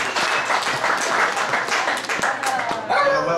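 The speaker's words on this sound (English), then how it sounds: "so I think we should all give them a round of applause." A crowd applauds steadily, many hands clapping at once in a dense, sustained burst that fills the room.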